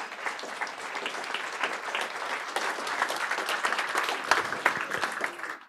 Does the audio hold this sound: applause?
yes